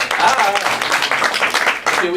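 Audience clapping at a stand-up comedy performance, a dense steady patter of applause with voices mixed in, loud and continuous.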